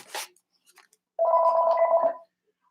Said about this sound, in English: Wait, I have to answer the phone.